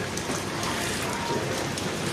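Steady rain falling in Japan, a dense, loud hiss of drops spattering nearby surfaces, continuous and even throughout with no talking.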